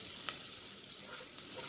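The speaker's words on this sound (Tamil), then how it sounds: "ஸோ இப்போ இதில் வந்து பச்சை மிளகாயும் கருவேப்பிலையும் ஆட் பண்ணிக்கிறேன்" Green chillies and curry leaves hit hot oil in a pan of tempering for chundal, giving a faint, brief sizzle with a tiny pop near the start and no talk.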